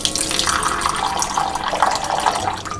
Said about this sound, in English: I'm just going to hydrate it with a little bit of water in this little bowl